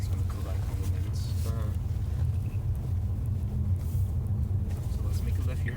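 A Tesla car on a test drive near a mall gives a steady low road rumble and tyre noise from inside the cabin, continuous and fairly loud throughout, with faint voices occasionally under it.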